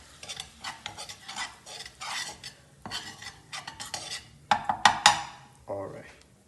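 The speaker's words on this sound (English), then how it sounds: "Be careful with the butter, you can burn yourself. And you have to mix just a little bit." A spoon scrapes and clinks against a pan while butter and flour are mixed together, with soft sizzling under busy, irregular stirring strokes that grow sharper and louder near the end.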